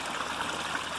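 Water running through a gold prospecting sluice outdoors in Indiana, a steady, close rushing and trickling flow with faint gurgles that holds even throughout, with no voices.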